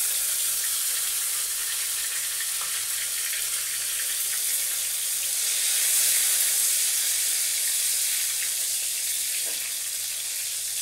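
Raisins and cashews frying in a pan for Bengali fried rice, a steady broad hiss of sizzling oil that runs alone and close throughout, swelling slightly midway.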